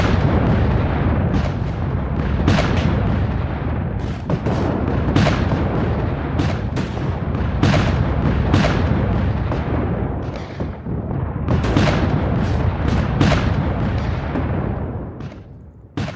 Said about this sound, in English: With roughly analogous force, Union artillery opens fire.